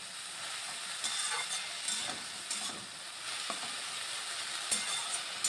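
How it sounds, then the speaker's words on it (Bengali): Mustard flower paste with salt and turmeric fries in a pan, giving a continuous bright sizzle with occasional scraping stirs over several seconds, with no voices. "ভালো করে একটু ভেজে নিচ্ছি"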